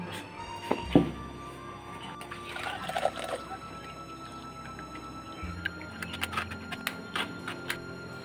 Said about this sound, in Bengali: এখন একটু ছাঁকনি দিয়ে ছেঁকে নেব।